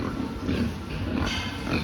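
Pig grunting in a fattening pen, a few soft low grunts close by over steady barn noise, with no talk.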